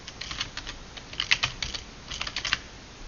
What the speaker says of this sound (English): I'm gonna type a fresh email